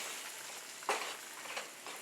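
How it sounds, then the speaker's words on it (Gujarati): Turmeric, Kashmiri chili and coriander-cumin powder sauté in hot oil with a little water, giving a faint, steady sizzle and a couple of soft stirring clicks. "અને બધા જ મસાલાને આપણે સરસ સાતળી લઈશું"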